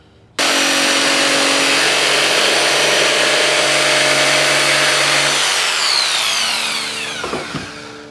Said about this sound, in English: take a jigsaw, and I'm just going to cut myself